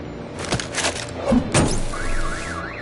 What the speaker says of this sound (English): My bat stunner would set off the car alarm.